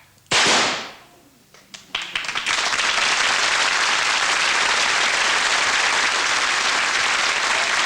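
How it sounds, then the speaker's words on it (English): A pistol fired in a bullet catch stage trick, one loud sharp bang followed by scattered cracks and then sustained roaring applause from a theatre audience. "You pull the trigger."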